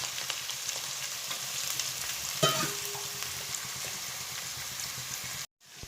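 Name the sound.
onion, ginger, garlic frying in coconut oil for kappa biriyani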